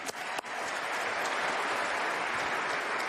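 An audience at a chef awards event breaks into sustained applause, a dense, even wash of clapping from a large crowd after a couple of sharp opening claps, with no voices on top.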